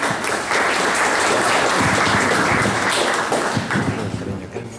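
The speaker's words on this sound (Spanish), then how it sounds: "Un aplauso para el doctor, por favor." An audience at a history academy lecture gives a dense, sustained round of applause. Many hands clap together loudly for several seconds, then the clapping thins and fades near the end.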